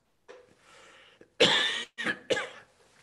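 A breathy throat sound is followed by two or three loud, harsh coughs up close, then quiet.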